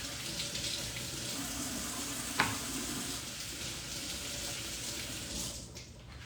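Lotus root is rinsed under a running kitchen tap, a steady even hiss of flowing water with one brief knock partway through, no voices.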